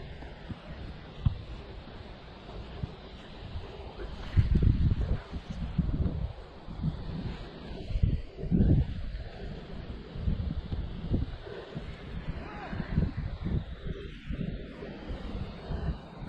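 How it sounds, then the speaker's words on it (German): Outdoor wind blowing steadily across a microphone while flying a stunt kite, with rustling gusts that swell around the middle of the recording and a broad rumbling roar throughout. "Ja, jetzt ist der Wind wieder da."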